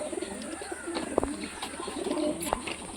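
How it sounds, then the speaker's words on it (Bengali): An old-bloodline high-flying Malbai pigeon coos close by in a few short, throaty bursts, with soft rustling and faint background noise between the calls. "এই দেখুন, এটা মালবাই পায়রা"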